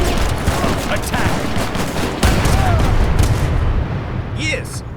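Cannon and gunfire in the video game Age of Empires 3 battle: dense volleys of shots and booms roll on continuously, loud, with brief voice lines over the fighting.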